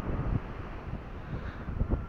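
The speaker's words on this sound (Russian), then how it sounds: "Ветер, конечно, шумит." Wind on a beach buffets the microphone during a metal-detector search, a loud, uneven low rumble with gusty bursts that carries on throughout, without speech.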